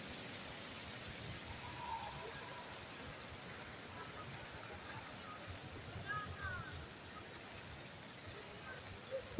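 Rain falling on the open paving of St. Peter's Square in Vatican City while someone walks through it, a constant, even hiss of drops filling the whole stretch with no pause.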